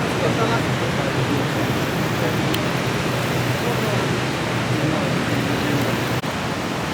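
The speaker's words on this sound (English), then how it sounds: "Look at this, guys. Heart of Niagara Falls." Niagara Falls roars in a constant heavy rush of water, loud and broad, steady throughout with no other distinct sounds.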